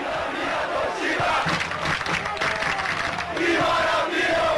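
A stadium crowd in the Pro Evolution Soccer 6 football video game, a dense roaring chant that swells and surges without pause, loud and continuous throughout.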